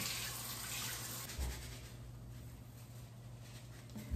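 Tap water runs steadily into a sink while hair is rinsed during a home hair-dyeing session, a continuous close splashing hiss with no talk.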